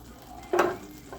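Asparagus dropped into melted butter and oil in a very hot pan bursts into a sudden loud sizzle that fades to a steady crackle, with a brief stir near the end.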